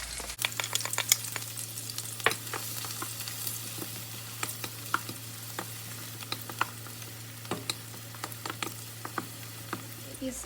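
Cubed white onions sauté in a hot pan for ham fried rice, giving a steady close sizzle broken by frequent sharp scraping clicks of stirring, with a low constant hum underneath.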